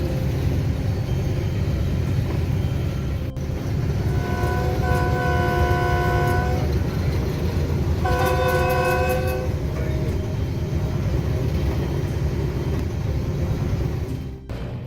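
A train moving along railroad tracks in Alaska, a continuous heavy rumble of cars on rails as two blasts of the multi-tone horn sound, heard from aboard the train with no talk.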